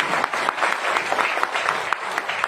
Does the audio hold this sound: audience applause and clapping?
yes